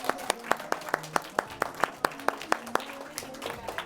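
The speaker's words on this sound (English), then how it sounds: "Round of applause for my mum." Sparse, close clapping for a speaker's mum at a class address, a handful of distinct hand claps in an uneven rhythm, fairly quiet with faint background voices.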